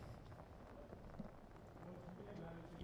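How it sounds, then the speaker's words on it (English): Rain beginning to fall during an outdoor wiffle ball game, a soft patter of drops on surfaces at low level, steady across the moment with faint background activity. "Looks like the rain's starting to come down again."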